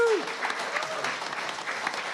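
An audience at a live folk music concert breaks into sustained applause, a dense wash of clapping that carries through to the end after a brief tone at the start.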